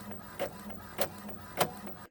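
An Epson ET4800 inkjet printer runs a sticker sheet, its print head shuttling in a steady mechanical whir broken by three sharp, periodic clacks, close and fairly quiet, with no voices.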